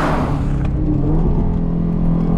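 A 2025 Aston Martin Vantage accelerates hard, its engine droning loud and steady while the ZF 8-speed automatic shifts up, the pitch climbing and then settling, heard from inside the car with no talk.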